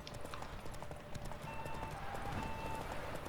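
Galloping hoofbeats of Roach, Geralt's horse, racing in The Witcher 3, a fast steady clip-clop rhythm throughout, fairly quiet with faint game sounds underneath.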